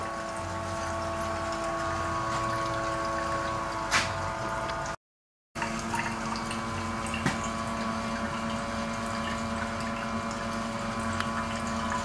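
Liquid flows steadily from a 10 kW continuous reflux alcohol still into a separator, a constant gurgling, pump-like wash of sound with occasional clicks and a brief dropout partway through.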